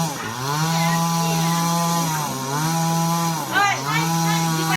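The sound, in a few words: machine cutting down thick trees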